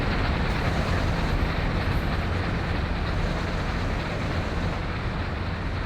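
A freight train in Train Sim World 6 rumbles past steadily, a dense, loud roar of engine and wheels that holds constant throughout without any pause.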